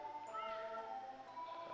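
Cat meowing in the game Tokyo Dark, a soft, faint mewing over a quiet tonal background, with no talk.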